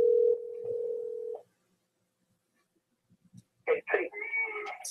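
A telephone dial tone plays over speakerphone, a steady loud hum for about a second and a half before it stops. Silence follows, then a voice starts talking.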